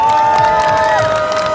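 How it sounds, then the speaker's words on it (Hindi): A crowd at a protest rally in London claps and cheers in a loud, sustained burst. A steady tonal drone runs over the noise. "आप सब मिलके भरपूर तालियां एक दूसरे को दें"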